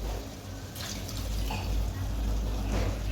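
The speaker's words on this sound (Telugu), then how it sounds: "ఇప్పుడు కొన్ని వాటర్ యాడ్ చేసుకుందాము." Water pours steadily into a pan of cooking chicken curry, a close, continuous splashing and trickling that runs alone for about three seconds.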